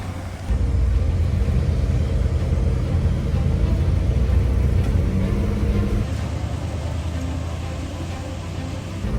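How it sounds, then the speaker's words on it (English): A restored Cadillac car pulls away and drives under its own power, its engine a steady low rumble with road noise close by, fairly loud and continuous, with no voices over it. "Oh my gosh, it's driving."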